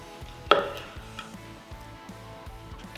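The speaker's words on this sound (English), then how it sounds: "we're just gonna slice out a little piece right through the middle here" A knife cuts through the middle of a cooked steak, one sharp close tap of the blade hitting the board, followed by soft scraping and light rhythmic sawing against a faint background hum.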